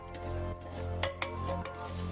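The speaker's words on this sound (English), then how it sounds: "I hate it when metal scrapes on metal." A metal utensil scraping and clinking against a metal wok holding coconut milk for a Thai green chicken curry, a soft continuous scrape with a few brief sharper clinks over a steady low hum.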